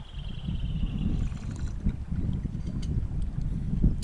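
An outboard motorboat on a river drones steadily, with wind buffeting the microphone and water rushing past, loud and continuous throughout.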